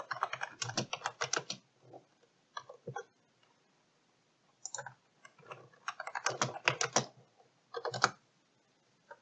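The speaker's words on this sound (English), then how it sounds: "you'll type into the search bar FreeCam 8." Typing on a computer keyboard into a browser search bar, close and crisp, in irregular bursts of rapid keystrokes separated by short pauses, with no talk over it.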